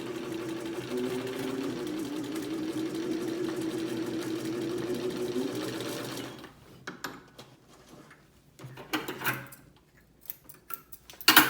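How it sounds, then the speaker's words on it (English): A Singer 15-91 direct-drive domestic sewing machine stitches through heavy multi-layer denim with a steady, even mechanical whir, then stops and gives way to scattered handling clicks and rustles. "I also want to make sure I don't sew so fast I don't get things under the foot."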